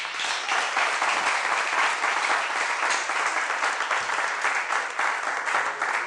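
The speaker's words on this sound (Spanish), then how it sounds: "Denle un aplauso al Señor." A church congregation applauds, many hands clapping in a sustained, even roar that fills the room for the whole stretch without a break.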